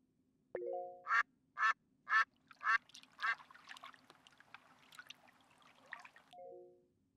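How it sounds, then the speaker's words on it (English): Several ducks quack nearby in a quick series of about five nasal calls over faint running water, with a soft trickle and a few sharp tones at the edges. "I heard ducks quacking and water, too."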